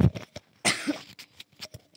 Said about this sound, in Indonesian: mohon maaf saya batuk